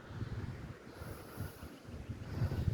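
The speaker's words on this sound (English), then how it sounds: "it is a little windy out still." Steady wind gusting outdoors, a low rumbling buffet against the microphone that swells and dips, growing louder toward the end, with no other sounds.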